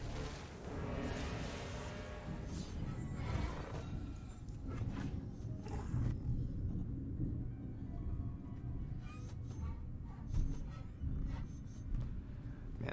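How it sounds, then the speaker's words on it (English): Deep, rolling thunder rumbles on and on, a low continuous roar with a few louder swells and cracks rising near the end, heard during a Legends of Runeterra match. "That was some big time thunder right there."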